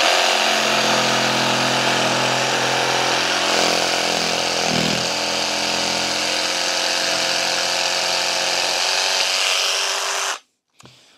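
An AEG BST18BSBL cordless jigsaw at speed setting 6 cutting through a 20 mm MDF board, a loud, steady buzzing whine held for about ten seconds before stopping abruptly.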